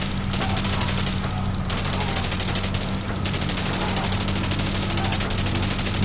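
Continuous rattling gunfire fills a World War I aerial combat game, dense bursts of shots layered over a steady low engine drone, loud and close throughout.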